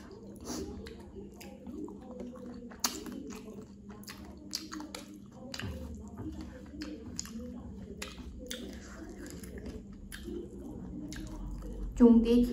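Close, soft chewing and squishy mouth sounds from eating rice with rahu and bata fish curry, a steady run of small wet bites and smacks with low background murmur.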